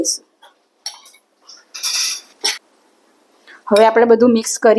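Potato vada filling mixed in a bowl, a few sparse clinks and scrapes of a utensil separated by quiet gaps, followed by a person talking.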